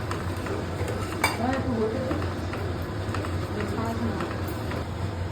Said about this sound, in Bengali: হালকা করে নাড়িয়ে দেবো।